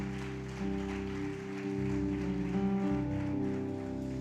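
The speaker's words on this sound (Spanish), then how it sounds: "Dale un aplauso al Señor" A church congregation applauds, a dense, steady wash of clapping beneath sustained music that swells slightly about midway through.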